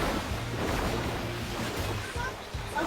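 Waves surge around a player surfing in the video game Fortnite, a constant rushing wash with a low thrumming engine-like drone beneath, while voices talk faintly underneath.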